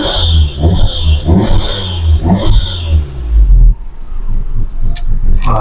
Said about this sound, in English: Revs to 3000, hood up.